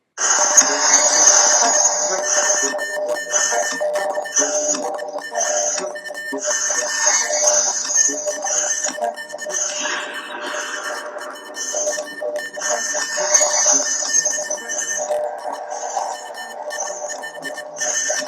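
Repeated high electronic Morse code beeps in an eerie analog horror piece, short and long tones in irregular groups over a low hum, continuing steadily throughout.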